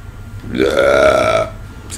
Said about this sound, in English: I got burps